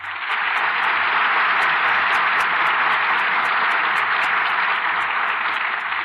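A radio theater studio audience gives a long, loud ovation for the stars Maureen O'Hara, Richard Conte and Veronica Lake, a thick, even roar of clapping over a faint periodic ticking and low hum from the old broadcast recording.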